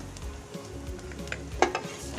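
Garlic frying in a hot pan in a home kitchen, a steady close sizzle with a few louder stirring scrapes and clinks near the middle, no voices.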